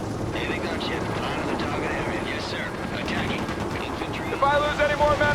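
Apache attack helicopter in the PC strategy game World in Conflict, a steady loud rotor and engine roar with gunfire-like bursts, ending in a sharper rhythmic chop near the close.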